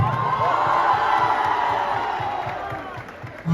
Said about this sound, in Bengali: সো একটা খুব বড়, খুব জোরে হাততালি প্রযোজক দেবের জন্য